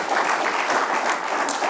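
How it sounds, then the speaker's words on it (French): Enthusiastic applause from an audience, a dense steady clatter of many hands clapping throughout. "je propose vraiment que nous l'applaudissions très chaleureusement"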